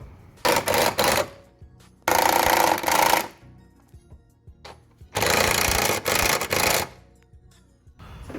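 Power tool tightening the rear trailing arm bolts on a 2009 Ford Mondeo, in four loud rattling bursts of impact hammering separated by short pauses.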